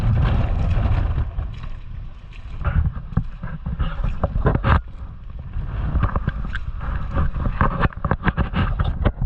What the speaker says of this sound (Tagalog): medyo mahangin lang po talaga.